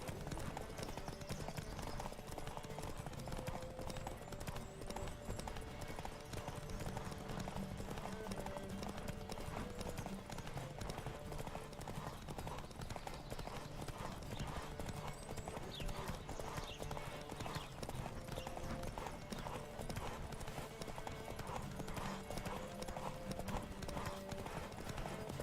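In the Witcher 3: Wild Hunt video game, a horse gallops in a race with continuous, rapid, loud clip-clop hoofbeats over a dense layer of game sound and background noise.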